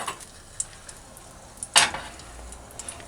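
Ginger and garlic hit hot oil in a pot, giving a soft continuous sizzle with a sharp burst of spattering midway and a few light clinks of a utensil stirring.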